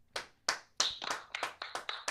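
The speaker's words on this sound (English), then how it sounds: "let's clap for B" About eight crisp hand claps in a fairly even rhythm, close and distinct, during a morning radio show, with no talk over them.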